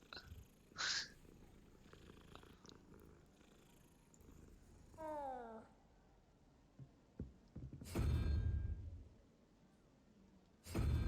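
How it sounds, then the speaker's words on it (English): A cat in the Hogwarts Legacy video game purrs while being petted, a soft low rumble joined by a short rising chirp midway and a couple of louder bursts near the end, with no talking. "Fine, pet the cat."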